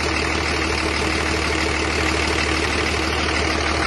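A 2005 common-rail Cummins diesel truck engine idles steadily and close by, a low rumbling chug with no voices.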